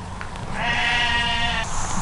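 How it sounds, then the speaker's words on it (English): Sheep bleat close by in the morning in the Loch Ken area, one long wavering call held for over a second and then a brief overlapping bleat, loud and alone with no talk. "Just a couple of sheep."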